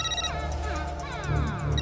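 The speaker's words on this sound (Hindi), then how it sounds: "मेरा फोन बज रहा है" A mobile phone rings nearby with a bright, repeating electronic melody of rising tone sweeps, playing continuously and fairly loud over a low background hum.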